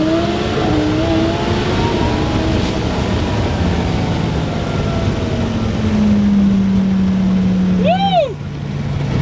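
A 2600-wheel-horsepower Lamborghini engine roars loud and close in a steady, powerful drone, then swoops into a rising and falling whine near the end.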